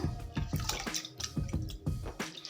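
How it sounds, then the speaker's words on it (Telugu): Soaking water being poured off soaked millets, an uneven trickling and splashing stream that comes in a few surges, close and fairly quiet. "ఇంక ఇప్పుడైతే వాటర్ అయితే వంపేస్తాను"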